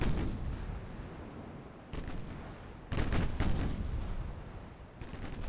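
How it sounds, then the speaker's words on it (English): Naval 7-inch guns boom in Ultimate Admiral Dreadnoughts: a steady rumble of heavy cannon fire, with loud salvos near 2 and 3 seconds and another near 5 seconds, some shots overlapping. "7-inch guns are in range."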